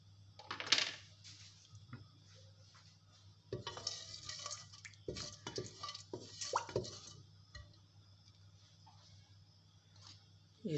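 Kitchen clatter and a sizzling burst as onions drop into hot oil in a pressure cooker, with scattered clinks and stirring noises, fairly close.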